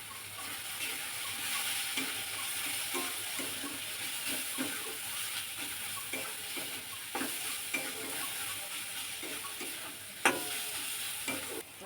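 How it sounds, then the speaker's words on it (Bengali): Boiled potato being mashed and mixed by hand with chilli powder and spices for Bengali egg devil, giving a steady run of soft, wet squelching and stirring strokes with a few sharper clicks, close and moderately quiet with no talking. "আলুটা ভালো করে দানা না থাকে, ভালো করে মিহি করে মেখে নিতে হবে।"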